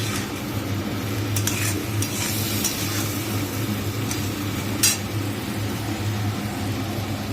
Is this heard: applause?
no